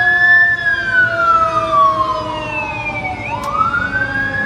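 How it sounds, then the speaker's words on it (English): An ambulance siren wails as it passes outside. Its tone sweeps steadily and then drops in pitch as the vehicle goes by, loud and clear over low traffic rumble, with no talking. "Dumbass ambulance."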